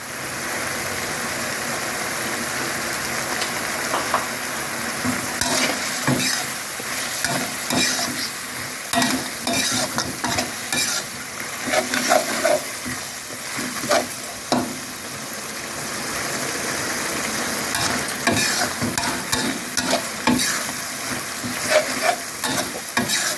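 Spicy eel stir-fried with oyster sauce in a hot pan, giving a steady sizzle under repeated scraping and clattering of a utensil stirring, close and continuous.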